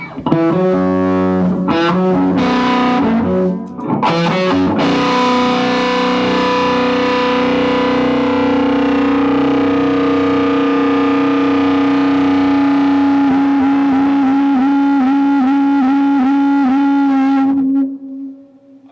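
Loud, sustained distorted electric guitar through an amplifier, with a few choppy strummed chords early on, then a long ringing, gritty note that fades at the end.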